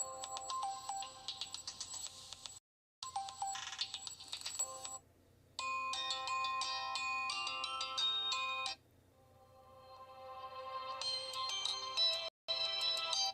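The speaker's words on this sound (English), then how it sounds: "what's the default ring? Oh, they've got their own custom ringtones." A custom ringtone plays on a phone, bright synthetic melodic tones in several loud bursts separated by short silences, with one quieter swelling passage before the final burst, heard alone.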